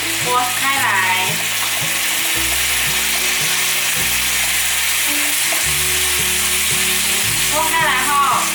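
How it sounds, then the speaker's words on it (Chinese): Lotus root slices fry and are stirred in a pan for a vegan home-style dish, a steady loud sizzle running throughout with no talk, while a low tonal hum of pitched background music drifts underneath. "接下来放入莲藕"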